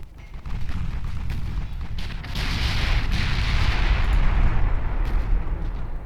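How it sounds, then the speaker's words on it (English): Naval guns firing in the Ultimate Admiral Dreadnoughts warship game: heavy artillery booms roll into a continuous thunderous rumble, loud and sustained, with broad crackling blasts rising midway. "fire on that light cruiser."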